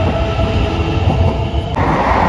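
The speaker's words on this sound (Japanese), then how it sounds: "19時45分発、8000系特急電車、特急石地高松駅出発です" A JR Shikoku 8000 series limited express electric train departs Takamatsu station in the evening, a loud, continuous rumble of wheels and motors close by, with one sharp transient near the end.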